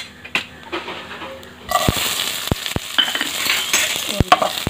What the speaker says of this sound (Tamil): பொரிஞ்சோன்னு ஆனியன் போட்டுக்கலாம்.